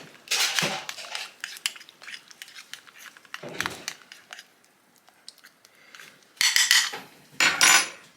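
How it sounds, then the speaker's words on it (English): A spoon scrapes and clinks against a bowl in uneven bursts, stirring oats soaked in boiling water, thick and wet, close up with no talking. "tip boiling water on my oats, then I give it a little bit of a stir"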